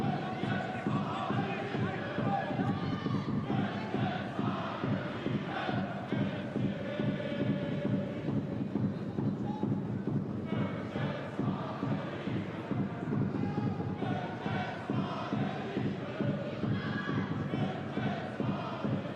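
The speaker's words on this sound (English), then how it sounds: "The chant now from the home crowd." Bayern Munich's home crowd sings a rhythmic chant of "München's wahre Liebe" through a stadium during a match against RB Leipzig, a dense, steady mass of voices with pulsing accents that carries on without a break.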